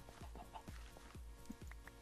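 Short, soft clucks from a chicken in the video game Minecraft, repeating several times at a quick, uneven rhythm, quiet and close against a faint background.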